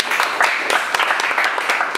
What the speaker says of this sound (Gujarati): એક વખત જોરદાર તાળીઓ પ્રતિકની આપો